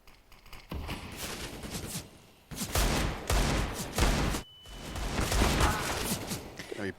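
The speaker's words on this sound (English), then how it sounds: "Apex finds an opener onto Breno." Rapid bursts of gunfire ring out during a professional Counter-Strike: Global Offensive match at IEM Rio 2023. Several loud volleys come in close succession, with short gaps between them and no one talking.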